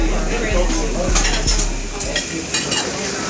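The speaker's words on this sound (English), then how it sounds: "He's flipping eggs and stirring grits for us right now" Eggs being flipped and grits stirred on a restaurant griddle, with steady sizzling, scraping and clinks of utensils against metal, with a voice talking nearby.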